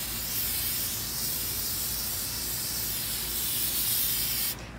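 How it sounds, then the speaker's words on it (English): An aerosol spray paint can hisses in one long, steady burst onto a freezer-paper stencil laid over a coir doormat, close and continuous before cutting off abruptly near the end. "So I'm gonna spray from the top and then spray from the bottom."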